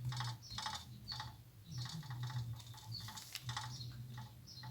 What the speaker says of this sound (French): Ma règle. Qui, avec les vibrations, tapait sur le support.